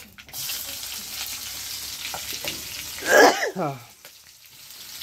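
Vegetables, starting with onion and coconut, dropped into hot oil in a home kitchen while cooking sambar, giving a steady sizzle with a brief louder burst of frying partway through, under a faint voice.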